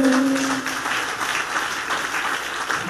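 A church congregation breaks into sustained applause after a preacher's sermon, a steady wash of many hands clapping throughout, with a brief sung or spoken tone at the very start.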